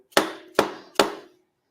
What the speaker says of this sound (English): Get our dead blow hammer.